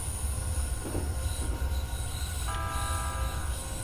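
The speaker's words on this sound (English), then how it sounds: "There's a Keihin-Tohoku train." Keihin-Tohoku line electric multiple unit train passing in a train simulator game, a steady loud rumble of wheels on rail with a rising squeal of wheels joining midway, no talk.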